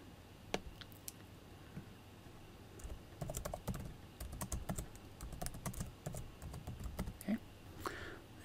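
Typing on a computer keyboard while entering text in a document, with quiet scattered key clicks early on that grow into a denser, faster burst of close-up tapping.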